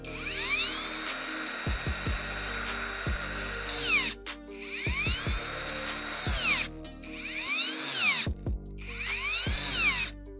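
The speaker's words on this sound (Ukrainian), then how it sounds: "ми будемо просто притискати болгарку до бруса, а потім дивитись на те, наскільки глибоко вона зупиняється" An angle grinder whines in long repeated bursts while cutting into rebar, rising and falling as it bites into the metal, with short pauses between each cut.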